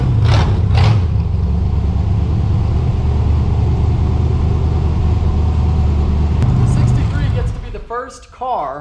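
A $275,000 supercar rolls into a garage, its engine rumbling loud and steady before shutting off near the end, with voices over the low drone.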